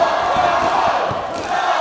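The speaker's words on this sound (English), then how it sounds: "the crowd here, you hear them cheering on for the Hall of Famer" Roaring crowd cheering at a live professional wrestling event, a loud dense wash of voices sustained for about two seconds with a few thumps underneath.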